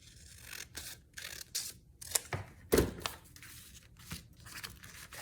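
Scissors snip through paper while trimming pages for a junk journal style mini notebook, a run of close, crisp cuts with rustling and crinkling in between, no talking.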